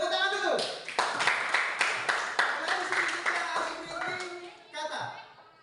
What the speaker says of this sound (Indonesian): Ya, kita sedikit dulu, tepuk tangan dulu.